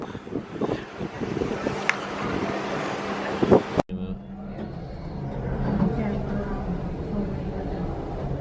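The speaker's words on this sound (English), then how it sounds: "it's very windy" Strong sea wind rushes across a cruise ship balcony on the Carnival Magic, a steady blustery roar with a brief thump partway through, and a voice talks over it.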